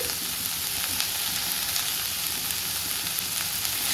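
Steady, dense sizzling of butter chicken masala frying in a pan with kasuri methi added, a constant close crackle with occasional stirring and no voices.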